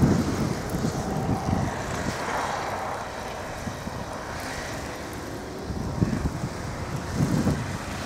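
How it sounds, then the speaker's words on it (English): Wind during a March 2017 blizzard snow storm in Alpena, Michigan, a steady roaring broadband rush with gusty swells and a low rumble throughout, no voices. "It's a blizzard, folks."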